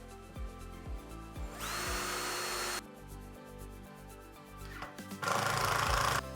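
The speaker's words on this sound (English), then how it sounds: "just repeat the process as you did the other side by starting off pre-drilling" A power drill pre-drills screw holes in a wooden bench. Two long, loud whirring runs alternate with short stop-start bursts and clicks of the trigger close by.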